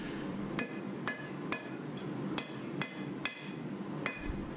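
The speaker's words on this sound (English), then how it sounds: "I'm just forging the very butt of the tang there" Hammer blows forging the butt of a hunting knife's tang, shaping a slight curve into the steel: about eight sharp, ringing metallic strikes at a steady rhythm, close and clear over a low workshop rumble, with no talk.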